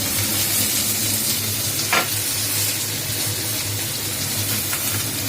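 Vegetables such as pointed gourd, papaya, beans, carrot, long beans and drumstick sizzling loudly in a pan of hot oil for neem shukto, a steady close frying hiss with a brief scrape of stirring.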